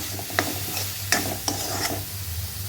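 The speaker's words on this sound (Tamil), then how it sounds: "கொஞ்சமாக காஷ்மீரி மிளகாய் பொடி, தனியா பவுடர் கொஞ்சம் மஞ்சள் பொடி நல்லா கலந்து விட்டுக்கோங்க" Spices stir into an onion-tomato masala frying for vada curry, with scattered spoon scrapes and taps over a soft, steady sizzle and no talk.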